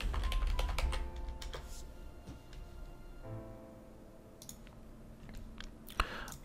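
Computer keyboard typing in a Windows 11 setup, with a dense burst of rapid key clicks at the start, then sparser, softer keystrokes and clicks that trail off, up close and without speech.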